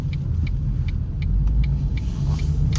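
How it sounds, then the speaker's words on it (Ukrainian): A car engine rumbles low and steady from inside a moving car, likely a Renault Megane 2 or Ford Focus 1 with an automatic gearbox, with faint regular ticking over the drone and no talk. "Автомобіль на скид газу реагує гарно"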